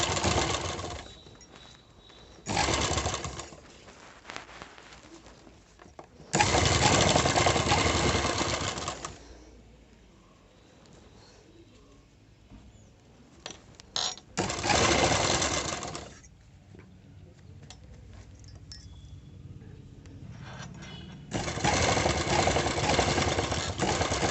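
A sewing machine stitches an embroidered blouse, running in loud steady bursts of several seconds each, separated by quieter pauses with faint handling noise.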